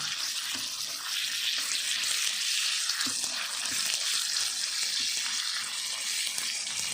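Pork frying with garlic in a pan for a stir-fried bean sprout dish, giving a steady, even hiss of sizzling that runs the whole time with no talk over it.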